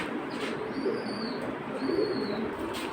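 A pair of Satchila pigeons at a pigeon market gives two low, soft coos about a second apart over a steady hum of background noise.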